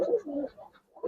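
Giribaz pigeons and their young in a loft, two close throaty coos separated by a short pause, with a third beginning as it cuts off.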